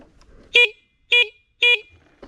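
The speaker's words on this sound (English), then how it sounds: "You wanna honk it?" Three short electric horn beeps from a 2022 Sur-Ron X electric dirt bike sound in an even rhythm, each a bright, clipped toot with brief silence between.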